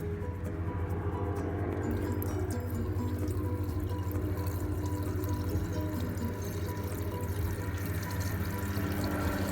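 Water pouring into a car engine's oil, a steady trickling and splashing stream running for several seconds over a constant low hum, close and moderately loud.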